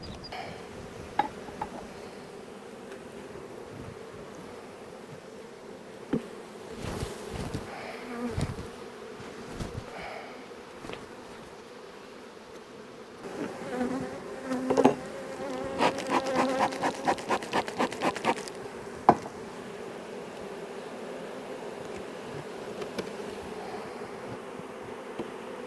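Honey bees buzz around hive frames during a hive inspection, a steady close hum broken by knocks and clatter of handled frames, which grow busier partway through. No one talks.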